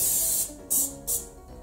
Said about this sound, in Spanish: Vamos a empezar rociando nuestro molde con un poco de aceite en aerosol.